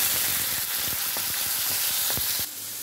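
Green peas tipped into hot oil with cumin seeds and halved green chillies, a steady close sizzle with crackling pops and a brief stir near the end, no voices.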